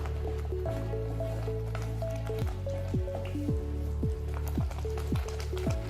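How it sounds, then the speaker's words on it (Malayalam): Sardine curry cooked Kerala style bubbles steadily as its water boils away, with soft wet plops and drips repeating close by over a constant simmer. "ഇതാ അതിലത്തെ വെള്ളമൊക്കെ ഒന്ന് വറ്റി ഒക്കെ ഒന്ന് ഇങ്ങനെ ബബിൾസ് ഒക്കെ വന്ന് ഒന്ന് വറ്റി വരുന്നുണ്ട്"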